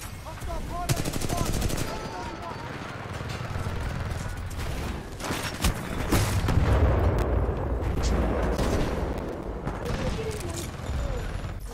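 Predator cannon fire in the video game Titanfall 2, heavy rapid bursts rattling and booming in quick succession amid explosions and mechanical clatter, with battle chatter around it.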